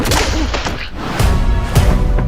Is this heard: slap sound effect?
yes